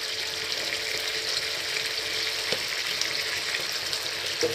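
A spoonful of desi ghee sizzling in a hot pan while chilli paneer is cooked, a steady, even crackling hiss close by, with no talking.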